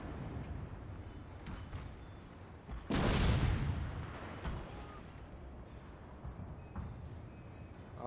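Artillery batteries open fire with explosive shells in a Total War: Fall of the Samurai naval battle at Miyako Bay, one heavy booming blast standing out above a steady rumbling battle din.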